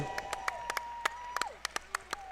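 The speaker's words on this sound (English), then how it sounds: "Big round of applause" Scattered bursts of clapping from a small audience at a roller derby tournament game, sharp isolated claps rising and falling over about two seconds rather than sustained applause.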